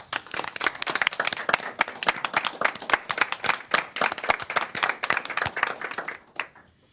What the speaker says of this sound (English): I'm going to stand and applaud you and all our men of honor at the table.